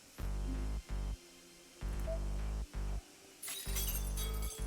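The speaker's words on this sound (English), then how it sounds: "I hear glass shattering." Glass shatters in the Fate/stay night visual novel, a bright crashing burst late in the sequence after a series of loud, pulsing game sound blocks separated by brief silences.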